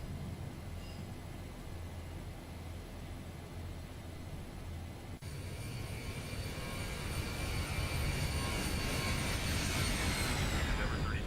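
Boeing 737-800 jet engines climbing after takeoff in the X-Plane 12 flight simulator: a loud, steady broadband roar that swells and brightens about halfway through and holds alone to the end.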